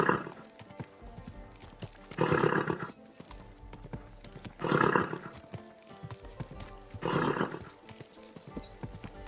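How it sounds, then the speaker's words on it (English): A horse in the Kingdom Come: Deliverance 2 video game, with rhythmic hoof clip-clops and snorting at steady intervals, four clear bursts over a low background. "Easy, good horse."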